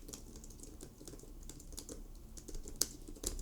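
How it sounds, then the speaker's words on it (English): Quiet, rapid tapping of keys on an ASUS Zenbook A16 laptop in an irregular rhythm, close up, with a couple of sharper clacks near the end. "Let's do a little keyboard test. Let's type."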